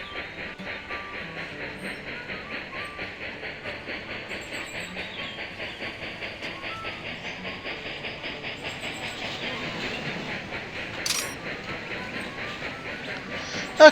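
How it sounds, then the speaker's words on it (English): Steam train running in the Railroad Tycoon 3 video game, a steady rhythmic clickety-clack of wheels on rail joints carrying on through the whole stretch at moderate level, with a brief hiss near the end. "Okay, so we have our first train going."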